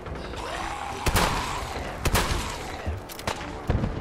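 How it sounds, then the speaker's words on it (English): Gunfire in the video game Fallout 4 Far Harbor during a fight with super mutants, several sharp shots cracking out at irregular intervals over a low background rumble, moderately loud with no speech. "No, I heard gunshots."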